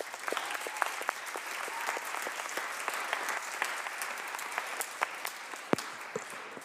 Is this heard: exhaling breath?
no